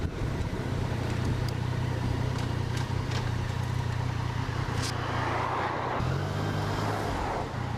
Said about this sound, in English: if I go to the clutch point, you can hear the engine revving.